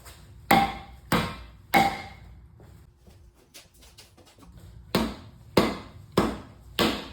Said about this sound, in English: We're gonna hit the front a couple times, hit the back a couple times.